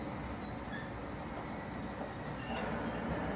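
The Oku Izumo Orochi train running on a mountain track, a steady rumbling roll heard from close by with no talk.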